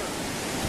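Floodwater from Hurricane Irene rushes down a street in Bristol, Connecticut, a steady, loud, broadband roar of fast-flowing water that stays unbroken and close throughout.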